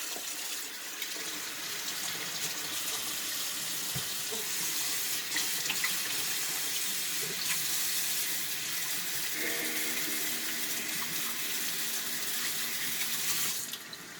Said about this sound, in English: got my hands washed all of the way